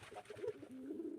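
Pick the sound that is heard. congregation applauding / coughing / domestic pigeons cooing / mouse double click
domestic pigeons cooing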